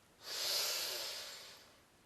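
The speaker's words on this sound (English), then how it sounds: "Okay, now take a deep breath." One long, deep breath drawn in close to the microphone, a breathy hiss that swells quickly and then slowly fades out over about two seconds, with no talking.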